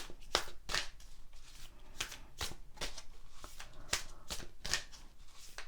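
A tarot deck being shuffled and cards drawn: repeated crisp riffling bursts at a quick, fairly even rhythm, close and moderately loud, with no speech.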